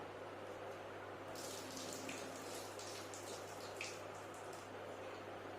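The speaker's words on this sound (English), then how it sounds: "So what I will do now is I will just drain this water." Soaking water being drained off soaked peanuts, a steady running pour into a sink that holds nearly unchanged for the whole stretch, with a low steady hum underneath and no talking.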